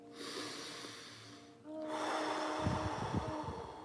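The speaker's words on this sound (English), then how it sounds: "Focus is on breathing in." Deep breaths drawn in and pushed out, close and audible, with a snorting, rushing quality toward the end; no talking.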